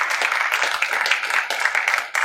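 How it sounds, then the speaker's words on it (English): A short round of applause from an audience at a SXSW Q&A session, a brisk burst of clapping with a few louder individual claps standing out. "Round of applause."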